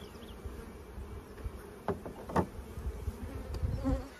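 Honeybees buzz steadily in an open hive during a frame inspection, a continuous close insect drone with brief handling knocks and rustles over it.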